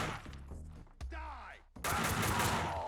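Video game gunfire from Max Payne 2 on Xbox, with bursts of shots and impacts mixed with game sounds, a loud continuous barrage in the final second.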